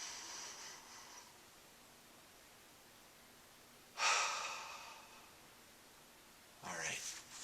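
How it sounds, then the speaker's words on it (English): A person draws a slow, deep breath in through the nose, heard as two soft, close airy rushes of inhaling separated by quiet. "take a deep breath in through the nose"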